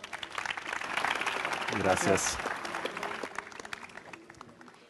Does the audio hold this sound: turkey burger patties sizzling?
no